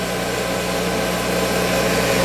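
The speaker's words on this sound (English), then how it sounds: "We started the program. It's calling for our drill." Steady, loud machine whine with a constant motor drone from a CNC spindle drilling holes in a panel top plate, no pauses and no voices.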